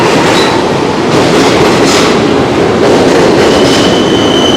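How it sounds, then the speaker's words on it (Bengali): A New York subway train arriving roars loudly and continuously close by, wheels rumbling with faint metallic squeals at the top. "এই সাবওয়ে ট্রেন এসেছে এসে গেছে"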